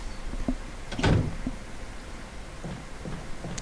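Door opening in Resident Evil Remaster, a brief burst of creak and clunk near the start, followed by faint scattered game noises.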